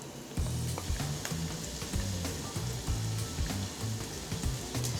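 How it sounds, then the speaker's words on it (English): Chopped onion hits melted vegan butter in a hot pan and sizzles steadily, with crackling bursts and some stirring scrapes. The sound is close and moderately quiet, with no voices. "So add some chopped onion."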